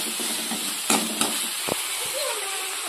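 Onions fry in a pan with a steady sizzle while they are stirred, with several sharp clinks and scrapes of a utensil against the pan up close.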